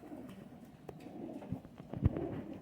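Kasuri high-flyer pigeons coo softly in a loft, a few low throaty calls rising near the end amid light shuffling and background noise.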